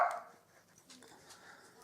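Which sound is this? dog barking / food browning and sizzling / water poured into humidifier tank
dog barking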